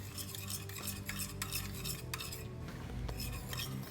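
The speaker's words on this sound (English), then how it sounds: "Now we add the passata. And give this a mix." A spoon stirs passata into a simmering Napoli pasta sauce in a pan, giving steady scraping and clinking against the metal over a low continuous bubbling sizzle, close and alone.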